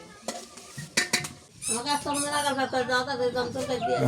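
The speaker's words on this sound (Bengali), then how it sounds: "পাতিলে রান্না করতেছি এই জায়গায়" Home cooking in a pot in a Dinajpur village kitchen: a few metallic clanks and stirring scrapes, followed by close voices talking over continued kitchen clatter.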